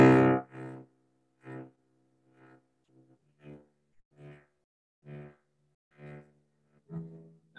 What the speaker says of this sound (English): what I will do now is start a scale with pulse